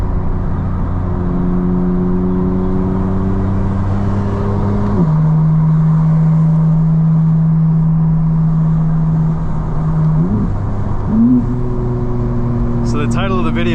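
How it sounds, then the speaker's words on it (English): A custom 2025 BMW M4 CS engine holds steady drones, then snaps through quick XHP gear shifts, with the revs dropping and climbing again between them. Heard close from inside the car, with a voice talking over it. "These XHP shifts are just crazy."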